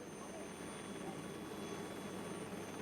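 A helicopter drones steadily near Uya Uya village in the rainforest, a constant low rotor and engine hum at moderate distance with faint tonal whine, unbroken throughout.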